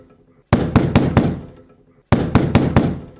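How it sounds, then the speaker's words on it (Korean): Urgent knocking on a door of a valley guesthouse at dusk: two loud, close bursts of about four rapid knocks each, separated by a short pause, with no voices. "계곡 펜션으로 갔었는데 해가 질 무렵 갑자기 밖에서 노크 소리가 들려오는 거야."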